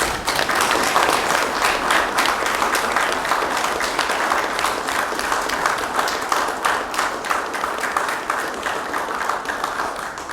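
An audience at a 2020 investiture ceremony applauds volunteers, a full room of steady clapping that stays loud and dense for several seconds, individual claps faintly distinguishable, then eases slightly toward the end.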